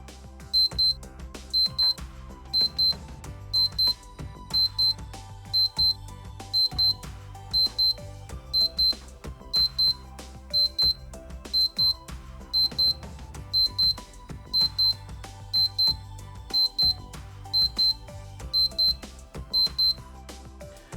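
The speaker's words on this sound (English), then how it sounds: "So it has a good 20-second alarm, and I'm surprised by how clear and loud this one is." A Casio DB-202 vintage Data Bank digital watch alarm beeps in repeated clear, loud bursts of rapid high-pitched tones, steady and evenly spaced for about twenty seconds, with no talking.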